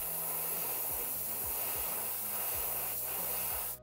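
Airbrush spraying moss green paint onto a fishing lure, a steady close hiss of air running almost unbroken for several seconds, with a low whining tone from the compressor beneath and an abrupt stop at the end.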